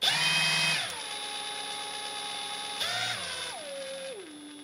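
A Parkside Performance PDSSAP 20 Li D3 cordless impact wrench whines as it runs freely, its pitch stepping up and down through several speed changes and then winding down, close and loud with no hammering and no voices.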